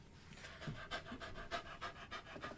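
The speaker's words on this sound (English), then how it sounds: "Hi, dogs." Dogs panting in quick, rhythmic bursts of breath, close and fairly loud, repeating steadily with no talk over them.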